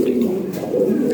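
Pigeons coo continuously, soft and throaty, at a racer and Lahori pigeon sale, close by and alone.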